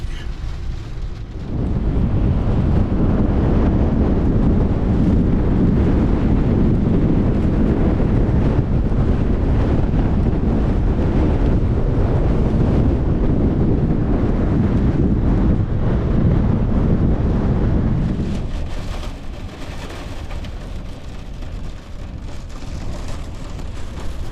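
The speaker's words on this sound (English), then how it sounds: "68, 70 mile an hour winds, gusts, chucking it down with rain." Roaring wind of 68 to 70 mph gusts during Storm Gerrit buffets the microphone in a loud, continuous storm, with heavy rain noise underneath, easing slightly near the end.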